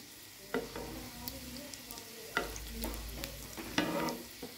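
Chicken potato croquettes frying in a pan, a steady soft sizzle of hot oil broken by occasional sharp scrapes and clinks of a utensil turning them, close and continuous.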